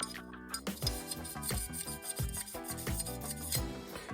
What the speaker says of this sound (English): we're just going to deburr all this down the track stone, the bow and all that